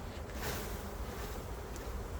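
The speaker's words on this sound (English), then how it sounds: "I'm gonna take these bees and shake them in their new box" Honeybees from a busy hive being shaken into a new hive box give a dense, steady buzzing swarm sound, close and continuous throughout.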